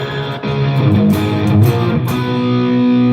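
An electric guitar runs through a Boss flanger pedal, with loud, sustained, swirling chords and a few strummed attacks blending into a thick, heavy ringing tone, and no voices.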